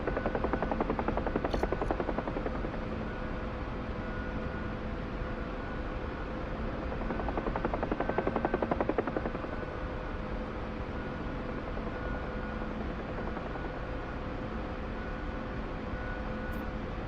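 A Huey helicopter flies over Afghanistan, its rotor and turbine making a continuous, even drone that stays moderately loud throughout with no talking.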